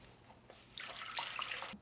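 Warm water pours into a mixing bowl, a steady broadband splashing stream that starts abruptly, runs for over a second close to the mic, then stops with a small final splash.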